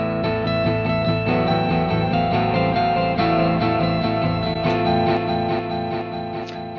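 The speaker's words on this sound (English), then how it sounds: "all we're hearing is the echo." Fully wet delay return from a guitar track in recording software, only the echo repeats without the dry signal, a thick, continuous wash of distorted guitar tones trailing into one another at a steady, loud level.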